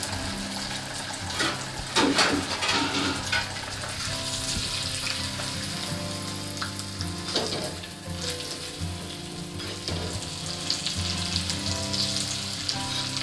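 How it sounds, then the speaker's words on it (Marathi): Omelette frying in a pan, a steady close sizzle throughout with occasional louder crackles and stirring scrapes, no voices. "चांगला फ्राय झाला पाहिजे तो ऑमलेट"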